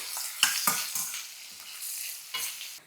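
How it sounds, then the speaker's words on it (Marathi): Sliced onion and curry leaves frying in oil with garlic for tomato rice, a close sizzle broken by repeated sharp spatula scrapes and stirs in an uneven rhythm. "लसूण छान फ्राय झाला की कढीपत्ता आणि उभा चिरलेला कांदा मिसळूयात."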